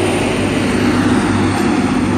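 A train accelerates away from a station on the Manchester to Preston line at Wigan North Western, giving a steady loud droning engine roar held throughout without voices.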